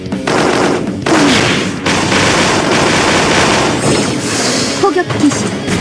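Artillery bombardment and rapid gunfire in the Closers video game, with dense continuous bursts and booms filling the clip, loud and close, while a voice speaks over the barrage.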